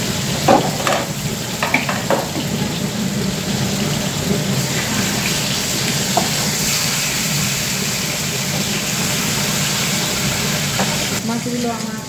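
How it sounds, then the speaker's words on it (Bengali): Fish pieces fry in hot oil for a fish curry, a steady broadband sizzle running throughout with a few brief clinks and scrapes near the start; no one talks. "মাছগুলোকে আগে ভেজে তুলে দেবো"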